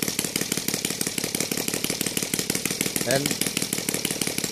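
A Saito R200 radial model engine running on gasoline with CH ignition idles in a fast, even, loud chugging pulse close by, while someone briefly speaks over it.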